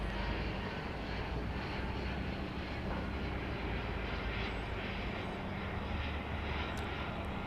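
An Embraer Phenom 300 business jet arriving at Dallas Love Field, its engines giving a steady, fairly loud roar throughout with no voices over it.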